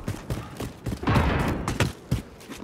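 Repeated bursts of gunfire in Call of Duty: Modern Warfare, sharp shots spaced irregularly with a denser volley in the middle, moderately loud against a busy battle background.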